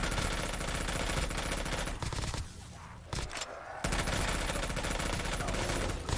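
Sustained rapid automatic gunfire in a Black Ops 3 zombies custom map, loud and dense for most of the stretch, dropping out briefly in the middle before the burst resumes.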